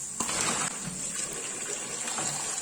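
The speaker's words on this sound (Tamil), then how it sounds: "இப்ப ரெண்டு மூணு தண்ணி நம்ம கழுவி எடுப்போம்" Mussels being rinsed in water in a kitchen pan, giving a steady loud gush and splash of running water with sloshing throughout, no voices.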